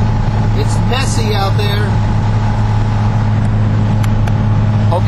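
A turbocharged Datsun 280Z with a ported internal wastegate hums steadily from inside the cabin while driving, its droning engine tone constant beneath a person's brief remark.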